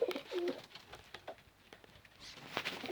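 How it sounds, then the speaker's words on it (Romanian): Pigeons kept in a home loft or cage make soft, low cooing calls near the microphone, with a few light wing or foot patters and rustles between them. "Uitați, porumbei toți."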